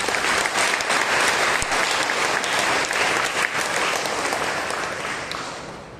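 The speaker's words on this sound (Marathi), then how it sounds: "प्रभूला टाळ्या वाजवूया आपण" Sustained congregation applause at a First Friday church service, a thick roar of many hands clapping that holds steady and then slowly fades over the last seconds.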